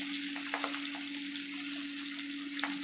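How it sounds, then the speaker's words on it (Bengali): Continuous sizzling and crackling of shing (stinging catfish) frying in hot oil, with a steady hiss and occasional pops, no voices. "ভাজা করবো লাল করে দেখো মাছটা ভাজা হয়ে গেছে"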